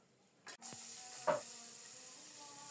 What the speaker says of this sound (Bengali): ওই তেলেই প্রথমে আলুগুলো ভেজে নিচ্ছি